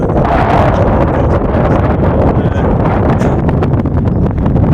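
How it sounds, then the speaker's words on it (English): Strong wind on high ground on Dartmoor buffets the microphone with a loud, constant roar that gusts slightly but never lets up. "how windy it is on the ground up here"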